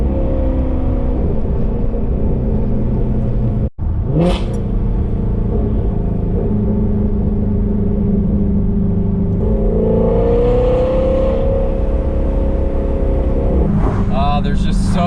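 Shelby GT350 wide-body with a Kooks exhaust driving through the Malibu Canyons, its engine a loud continuous rumble with a couple of revving surges and shifts.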